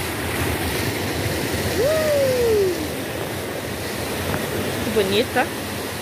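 Steady rushing roar of the Ducha de Prata waterfall in Campos do Jordão, with a person speaking briefly and a short whistled or sung tone over the water.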